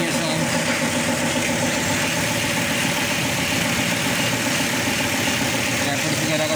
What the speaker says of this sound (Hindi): ट्रैफिक वगैरह का साउंड सुन सकते हैं।